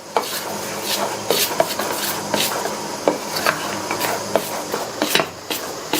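Idli batter being mixed with herbs and salt, a continuous wet rubbing and scraping of a spoon against the bowl with soft knocks, close and steady, no talking.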